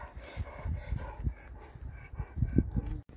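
A young dog pants nearby in quick, rhythmic bursts of breathing, occasionally louder, over a few seconds with no speech.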